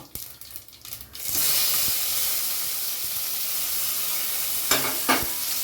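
Cumin seeds and green chillies fry in hot oil on a low flame while being stirred for rasam rice, starting with a few quiet clinks, then a loud steady sizzle and hiss that runs on alone, broken near the end by two brief scrapes.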